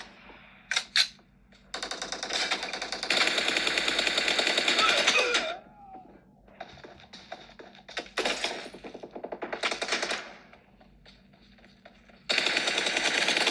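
Automatic weapons fire in PUBG rattles in long, loud bursts with brief gaps between volleys and isolated single shots.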